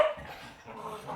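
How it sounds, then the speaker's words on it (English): Dogs at play give a quick, fairly close bark or yip, a single brief burst. "Pardon my dog, they're just playing."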